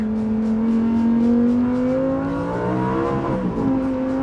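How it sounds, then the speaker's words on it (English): A Lamborghini Huracan V10 screams loudly up through second gear, its pitch climbing steadily before bouncing off the fuel cutoff limiter, then dipping and rising again. "In second, I keep hitting fuel cutoff because it feels like it just wants to rev forever"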